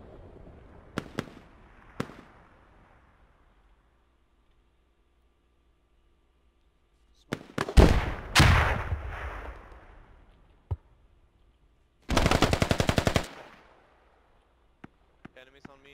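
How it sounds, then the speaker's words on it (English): Russian mortar bombardment in a tactical video game, with scattered sharp blasts early, then a loud cluster of explosions around the middle and a dense rattling burst of fire near the end, separated by quiet gaps. "Bombardment here of mortars"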